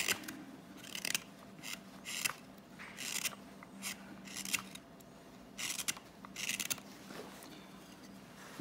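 A Morakniv 162 double-edge hook knife carves wood in a run of short, crisp scraping strokes, each a separate close shave. The strokes come in an uneven rhythm with quiet pauses between them, and nobody speaks.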